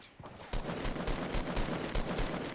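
Rapid bursts of video game gunfire crackle in a fast, repeated fusillade of sharp shots, moderately loud and continuous across the moment with no speech.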